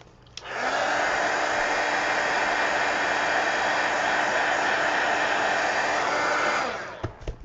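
A handheld hair dryer blows on freshly painted craft stickers, a steady loud whoosh running continuously for about six seconds before switching off at the end.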